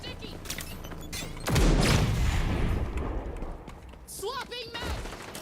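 A sticky bomb is deployed in the shooter game XDefiant: a sudden loud blast-like burst and rumble amid busy game noise with gunfire-like pops, followed by a short electronic chirping effect near the end.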